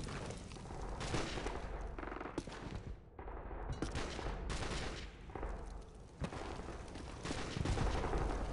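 Suppressing gunfire in Call of Duty 4: Modern Warfare: dense, continuous rapid bursts of automatic rifle fire, loud and close, with a brief lull partway through and no clear talk.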